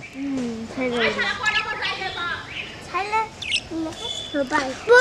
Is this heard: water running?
no